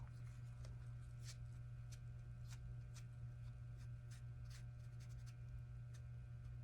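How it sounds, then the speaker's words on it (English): Glaze being wiped off a piece with a wet paper towel: a series of short, soft scrubbing swipes at an irregular rhythm, fairly faint over a constant low electrical hum. "you just wipe it off with a wet paper towel"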